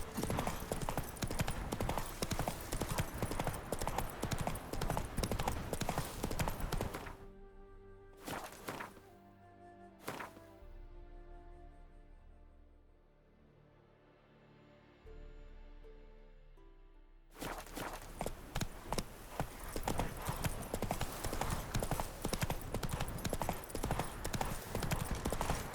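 Roach, a horse in The Witcher 3, gallops with loud, rapid, rhythmic hoofbeats. They break off mid-clip for a quieter stretch with a few thumps, then return at full pace.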